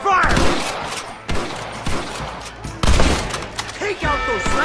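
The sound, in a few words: gunfire in the video game Red Dead Redemption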